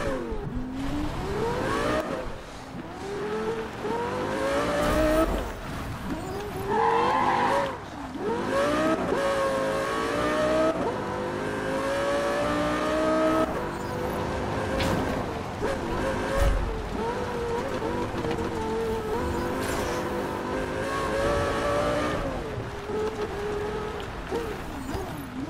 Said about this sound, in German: jetzt geht's los mit unserem Audi A8